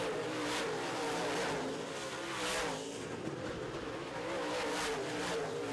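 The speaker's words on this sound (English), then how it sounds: "Here comes Sexton to make it 6 guys racing for the lead." Modified race cars roar around a short oval track in a feature race, engines revving loudly and continuously as the pack surges past in waves, with no talk over the din.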